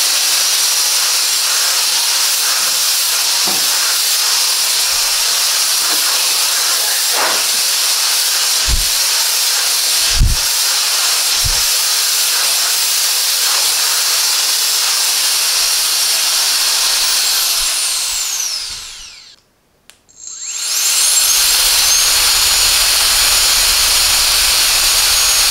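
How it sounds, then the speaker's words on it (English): A Kica Jet Fan MAX portable blower runs with a loud, steady high-pitched whoosh of air, briefly cutting out near the end before spinning back up to full force. "need a reliable fan on the go"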